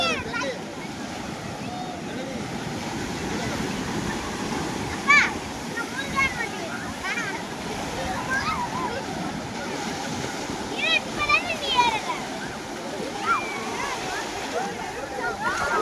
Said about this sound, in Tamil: அலை அடிக்கும்.